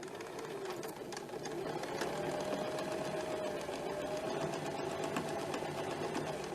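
Sewing machine stitching around a six-pointed star fabric appliqué, a steady continuous mechanical whir running throughout at moderate level, close by.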